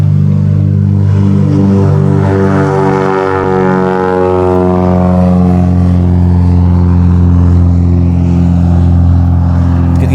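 Light aircraft engine at full power during takeoff at Derby Airfield, a loud, steady harmonic drone that holds close and constant throughout, with pitch shifting slightly as it climbs.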